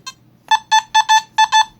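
A Nokta Simplex metal detector's high electronic tone for a dime sounds in a quick series of short beeps after a brief initial chirp, fairly loud and close.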